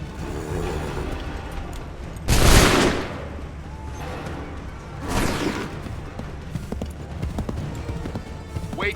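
In Assassin's Creed III, a line of muskets fires a volley on command: a loud, broad blast followed a few seconds later by a second, weaker volley, with horse hooves clopping and a shouted voice in between.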